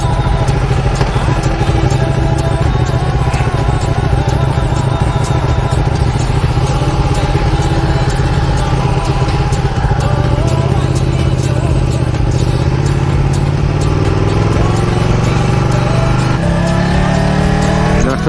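Ducati Panigale 1299 sport motorcycle engine running steadily and loud throughout, a continuous droning rumble with a slowly rising pitch near the end, as if the bike is pulling away after a wet ride.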